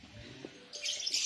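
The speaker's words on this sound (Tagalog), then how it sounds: "Ito may mga birdies." Faint bird chirps, a few short tweets over a quiet background, grow denser toward the end.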